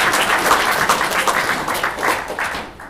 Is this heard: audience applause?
yes